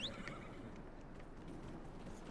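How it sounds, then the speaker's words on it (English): A horse in the Dragon Age: Inquisition video game whinnies and clip-clops along, with hoofbeats steady and fairly faint behind the game's ambient background. "Oh, I've got a pretty horse."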